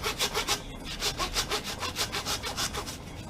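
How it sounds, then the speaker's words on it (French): A hand saw cuts through pork bone while a half pig is butchered, giving a close, rhythmic rasp of quick back-and-forth strokes at a steady pace with no talking. "Donc je scie juste l'os."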